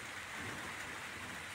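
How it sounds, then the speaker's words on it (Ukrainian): Light drizzling rain falls in a soft, even hiss, faint and steady for a brief moment with no voices. "Та ну, що ти такий за дощ, що це?"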